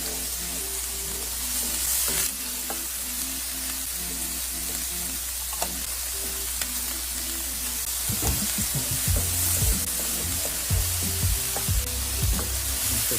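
Green bell pepper sautéing in a pan over medium heat, giving a steady close sizzle with occasional stirring clatter and scraping, louder in the second half.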